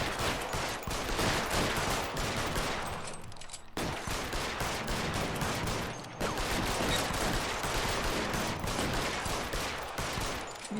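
Dense, continuous gunfire in the video game L.A. Noire, rapid shots crackling without pause for about ten seconds, with two brief dips, loud and close throughout.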